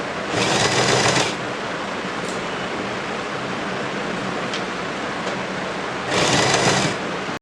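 A sewing machine stitches a folded fabric strip onto a kurti sleeve, running in two loud bursts of rapid stitching near the start and end with a quieter pause of fabric handling between.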